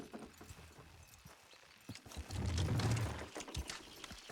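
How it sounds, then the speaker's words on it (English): Horses clip-clopping in Red Dead Redemption 2 near Beecher's Hope, steady hoof beats on ground that swell into a louder rumbling stretch midway, close and unbroken by talk. "Good horses."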